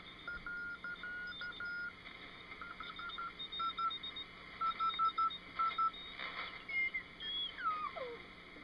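A Wireless Set No. 19 transceiver being netted to another station's frequency gives faint, thin tones, short beeping notes and a sliding whistle that drops in pitch near the end, over a steady hiss.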